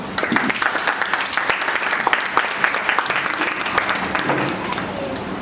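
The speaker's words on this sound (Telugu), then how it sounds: "మీకు చప్పట్లే మా వంశీకి బలం, ఆశీర్వాదం" Sustained applause from a crowd, many hands clapping steadily and loudly throughout with no break.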